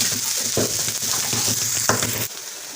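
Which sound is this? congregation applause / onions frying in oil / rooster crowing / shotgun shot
onions frying in oil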